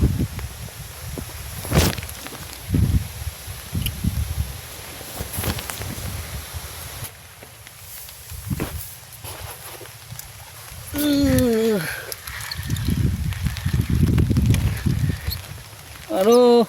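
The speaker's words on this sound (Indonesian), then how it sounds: "Hujan angin, angin hujan nih." Gusty wind and rain sweep across an outdoor fishing spot during a sudden storm, a steady rushing roar rising and falling with the gusts beneath people talking throughout.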